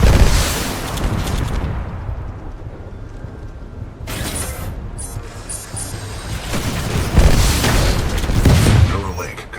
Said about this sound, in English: This shoulder-mounted rocket pod will lock onto multiple enemy targets.